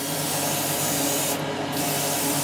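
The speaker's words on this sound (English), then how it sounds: "just keep spraying it on" An aerosol can sprays undercoat onto a Forgeworld resin miniature in a steady, close, continuous hiss that fills the whole stretch without a break.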